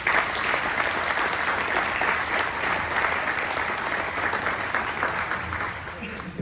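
Sustained audience applause at a town hall debate for the Perry County, Ohio sheriff's race, steady and dense for the full stretch, loud and even with no break.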